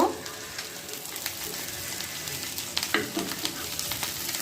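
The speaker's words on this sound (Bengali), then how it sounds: "অনেক সুন্দরভাবে কাকলেটগুলো ভাজা হচ্ছে" Egg and potato cutlets fry in oil with a continuous crackling sizzle, close and steady, punctuated by a couple of brief scraping or clinking sounds.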